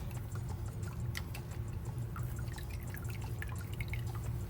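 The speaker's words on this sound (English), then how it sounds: "So now I'm just gonna lift the cheesecloth up and squeeze out" Homemade almond milk drips from a squeezed cheesecloth, a quiet steady trickle of irregular drops over a low background hum.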